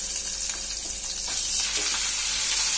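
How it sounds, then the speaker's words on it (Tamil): Onions frying in hot oil in a pan sizzle steadily and loudly up close, a continuous crackling hiss with light stirring scrapes and no talking. "இப்போ வெங்காயத்தை போட்டுக்கலாம்."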